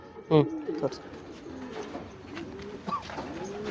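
Homer racing pigeons in a loft give a few soft, throaty coos, one louder burst near the start and quieter calls later over a low background hum.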